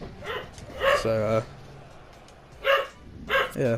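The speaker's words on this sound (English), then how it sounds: "I do apologise about my dog." A pet dog barks a few times in a room, sharp yaps and a whimper breaking in around the middle and end, close and fairly loud, while someone talks over the top during a FIFA 19 gaming session.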